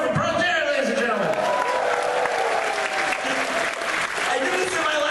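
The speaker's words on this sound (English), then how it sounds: "I need a louder applause for Pro Jerry." Audience at a convention panel claps loudly and steadily throughout, with cheering voices mixed into the dense, sustained applause.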